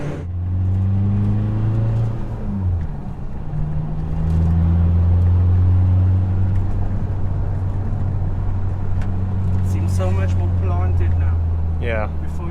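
A tuned VW Polo GTI wagon with a 1.8T engine out on a test drive, its steady low engine drone and road rumble running continuously throughout, with a voice talking over it near the end.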